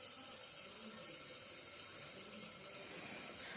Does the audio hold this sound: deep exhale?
no